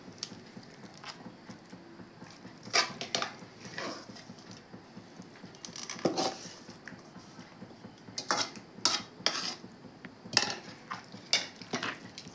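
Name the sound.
pounding cabbage and tomato pieces in a mortar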